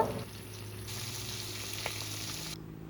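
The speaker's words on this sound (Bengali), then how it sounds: "মাছগুলোই নুন হলুদ মাখিয়ে আমি ভেজে নেব" Fish coated in salt and turmeric fries in oil over a wood-fired village stove, a steady soft sizzle with a low hum beneath, fairly quiet and unbroken for a few seconds.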